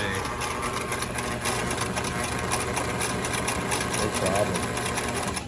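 A bargain sewing machine with a replacement motor chatters steadily as it stitches through four layers of leather, a close, continuous mechanical whir and rapid needle clatter, with someone speaking briefly over it.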